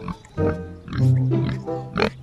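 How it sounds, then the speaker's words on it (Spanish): A farm pig grunts several times, close by, in rough low bursts with a longer nasal grunt in the middle, while a few faint background sounds fill the gaps. "Aquí tenemos al chanchito número 2"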